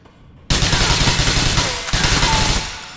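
Rapid bursts of loud, close gunfire ring out in GTA IV, starting sharply after a brief quiet moment and continuing in two dense volleys with no talking.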